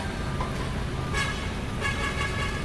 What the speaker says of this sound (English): Oh, I hear hooting.